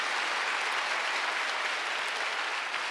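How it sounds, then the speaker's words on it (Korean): A church congregation at a Sunday worship service claps hands steadily and densely throughout, a loud continuous wash of applause with no pauses. "왜 박수 그렇게 쳐요? 세게 쳐야지."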